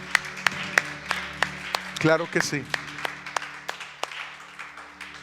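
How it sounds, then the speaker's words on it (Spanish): Scattered congregation applause at a church service, a handful of distinct sharp claps spaced irregularly, with someone speaking briefly in the middle over a faint hum. "Vamos a darle un aplauso al Señor y a todas las personas que han hecho esta oración."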